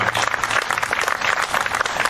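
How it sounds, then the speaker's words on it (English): An audience at a community event in Keene bursts into applause for the organizers, a lively patter of claps rising and falling in uneven bursts. "I want to give a round of applause to the organizers of this event today"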